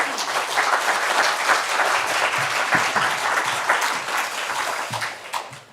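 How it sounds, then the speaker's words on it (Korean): Applause from a church congregation at a Sunday worship service, welcoming a pastor to the pulpit; sustained, fairly loud clapping fills the whole stretch and thins slightly near the end. "우리 따뜻한 박수로 환영해 주시면 감사하겠습니다"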